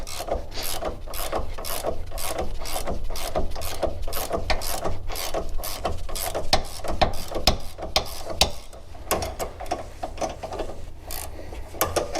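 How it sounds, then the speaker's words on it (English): Rapid, steady clicking from a Gear Wrench ratcheting wrench working on the factory rear adjustable sway bar of a Camaro ZL1 1LE, close and continuous with regular strokes and no talk. "I love these gear wrench ratcheting wrenches"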